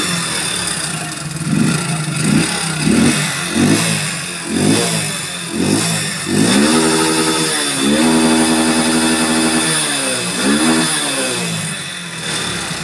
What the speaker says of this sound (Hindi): जैसे ही मैं बाइक में एक्सीलेटर लेता हूँ